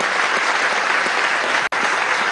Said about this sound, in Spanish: Un aplauso, Madeleine.